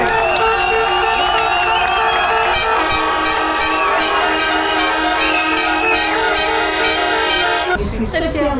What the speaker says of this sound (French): merci pour eux, un tonnerre d'applaudissements s'il vous plaît.